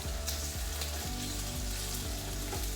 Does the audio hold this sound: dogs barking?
no